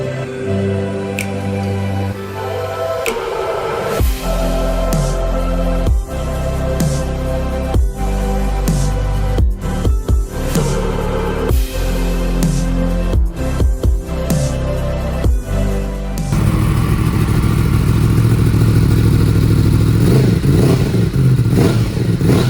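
A 2017 Yamaha MT10 motorcycle engine runs loud and close, with a steady rumbling idle, sharp blips and revs, then a heavier sustained drone in the final seconds.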